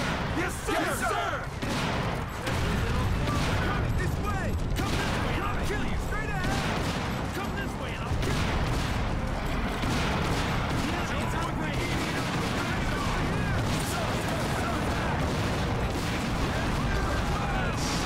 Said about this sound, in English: Launcher, prepare to fire!